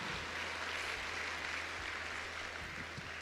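Congregation applause in a coliseum church service, a steady distant wash of clapping from a large crowd with no talking.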